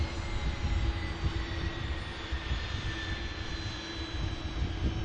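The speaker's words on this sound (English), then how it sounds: "just prior to this beautiful Brussels taking off" A Brussels Airlines plane in Atomium livery taking off at Manchester Airport, a steady loud roar of jet engines holding at full power across the whole stretch, with no talk.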